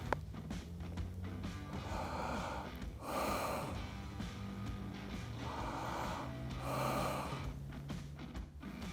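Heavy breathing while aiming a rifle comes in slow, deep, rhythmic breaths close to the listener, with two pronounced inhales standing out over faint background noise.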